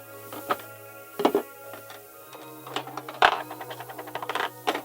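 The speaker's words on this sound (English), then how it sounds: "Oh, this is going so much faster now that I figured out how to thread the bobbin." Domestic sewing machine stitching a Legend of Zelda costume, a run of close, rapid mechanical clatter in short bursts with pauses between, fairly quiet with a steady low hum underneath.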